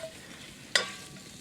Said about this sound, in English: As you can hear, it's sizzling a little bit, but it's all stuck together.